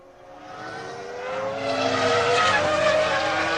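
Michael Schumacher's Ferrari Formula One car at the 2001 Spanish Grand Prix free practice screams past, its high-revving engine note swelling from moderate to loud and holding a sustained, rising whine.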